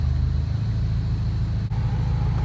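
Honda S2000 with a Rotrex supercharger and AEM Infinity engine management holds steady against an early-set rev limiter, a loud, continuous droning engine note with one brief dip partway through and no talk.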